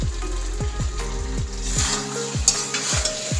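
Soya chilli stirred in a pan, a rhythmic run of spatula scrapes and clacks about every third of a second over a steady background sizzle, close and clear.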